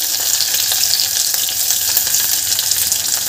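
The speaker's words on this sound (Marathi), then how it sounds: "कांदा सुद्धा 1-2 मिनिट छान फ्राय करून घ्यायचा आहे हलकासा" Onion fries in oil in a pan as the base for a beetroot and carrot soup, giving a loud, steady, close sizzle that never lets up, with no voices.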